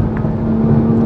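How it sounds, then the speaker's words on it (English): A 2020 Toyota Supra running a BMW Z4 engine gives a loud, steady low exhaust drone with a sustained buzzing hum, close and continuous, with no speech. "the exhaust sounds really, really good for what essentially is a Z4 motor"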